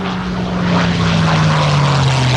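P-51H Mustang propeller fighter flying low past the crowd at the Rumble Over the Redwoods airshow, a loud, steady engine drone with a slight falling pitch as it passes close by.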